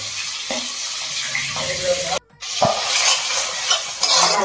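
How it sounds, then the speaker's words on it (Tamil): Onions fry in a pan on the way to turning brown for a fish curry, making a bright, close sizzle with occasional stirring knocks and a brief drop to near silence midway. "வெங்காயம் போட்டாச்சு, இந்த மாதிரி ப்ரௌனாக வறுத்துக்கணும்"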